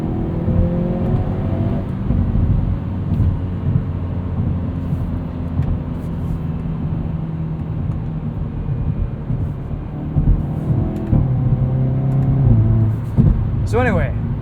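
Hyundai Veloster N with a dual-clutch gearbox driving hard, engine droning steadily with rising and falling revs, heard from inside the cabin; a shift-like change near the end.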